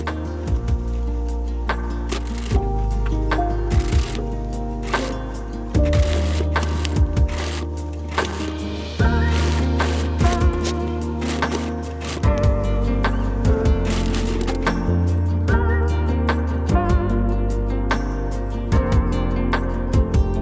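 A sewing machine runs in long bursts stitching fabric around a fabric bucket's seam, its rapid mechanical chatter loud and close, with brief pauses between runs.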